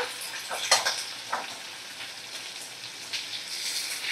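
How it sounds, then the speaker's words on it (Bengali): Chopped tomato, onion and curry leaves frying in a pan, a soft continuous sizzle with a few brief stirring scrapes near the start, close and moderately quiet. "দেখো, আমি এবারে টমেটো পেঁয়াজ কারি পাতা ভালো করে ভেজে নিচ্ছি"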